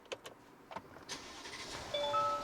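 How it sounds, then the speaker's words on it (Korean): A Mercedes-Maybach engine is started: a few soft clicks, then the engine cranks and catches with a rising rush that settles into a steady idle with a faint whine, heard close and fairly quiet. "자, 그러면 시동도 한번 걸어볼까?"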